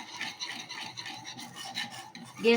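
Milk powder and cream stirred together by hand in a bowl for rasmalai modak, soft scraping and rubbing strokes repeating close up, with a slightly louder scrape at the end, without speech.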